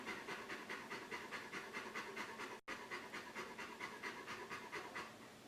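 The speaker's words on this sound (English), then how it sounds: "if you can hear panting, it's my dog" A pet dog pants steadily on a hot day, a fast, even rhythm of breathy huffs that runs close and continuous throughout, with one brief break near the middle.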